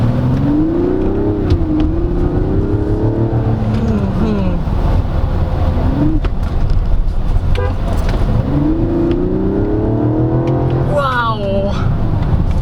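A 2024 Mazda CX-90 Exclusive with an 8-speed multi-clutch transmission and no torque converter drives along. Its engine note climbs, drops through downshifts and rises again under steady road noise, while someone talks over it.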